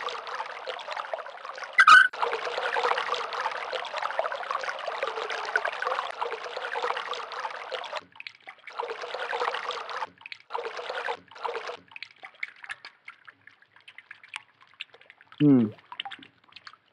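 Water flows steadily through a drain system among rocks in the Myst game world, a continuous broadband rush that runs for several seconds, breaks off briefly, returns in bursts and fades, with occasional sharp clicks.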